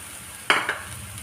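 Grated raw banana stirred in oil in a pan: one short scraping stroke of the spoon with a brief sizzle, then a second lighter scrape, close and otherwise quiet.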